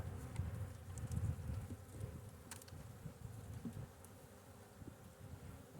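Honey bees droning steadily around an open hive during a March inspection as frames are shifted in the nest, a continuous low buzz close to the microphone with a few brief knocks.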